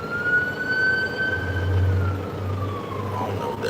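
Ambulance siren wails as it passes along the street, a rising and falling tone over traffic rumble and a low engine drone, fairly close and loud.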